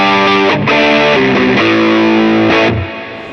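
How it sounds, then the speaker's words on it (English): An electric guitar plays through a Boss SD-1W overdrive pedal in standard mode, giving a loud, close, crunchy distorted tone. A few sustained chords and short riffs ring out with no talking, and the last chord decays at the end. "This is what it sounds like. This standard version of this pedal."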